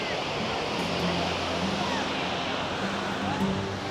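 Sea waves roll onto the sand at Puri beach in a steady, broad surf roar that holds for the whole stretch, with faint voices murmuring underneath.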